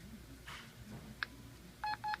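Keypad tones entering an access code on a Janus elevator phone: a single short tone, then a pause, followed by two quick beeps, crisp and close over a quiet hum.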